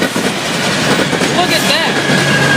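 A LORAM 403 rail grinder train passes close by, loud and steady with rumbling wheels, brief squeals and rhythmic clatter, and a person is heard speaking over it.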